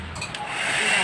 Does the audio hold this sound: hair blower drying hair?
yes